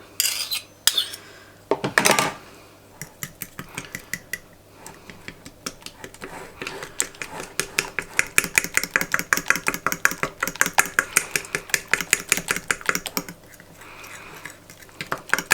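Egg, mayonnaise, mustard and flour being whisked into a breading batter for fish, with a steady run of quick metallic clinks and scrapes of a utensil against a bowl that grows denser and louder toward the end.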